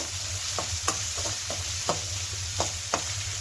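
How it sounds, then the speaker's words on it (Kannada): Ginger garlic paste frying in a pan for veg egg fried rice, a steady close sizzle with regular scraping stirs of a spatula every half second or so. "ಇದನ್ನು ಹಾಕೊಂಡ್ಮೇಲೆ ಇದರ ಹಸಿ ವಾಸನೆ ಹೋಗೋವರೆಗೂ ಇದನ್ನು ಚೆನ್ನಾಗಿ ಫ್ರೈ ಮಾಡ್ಕೊಳ್ಳಿ"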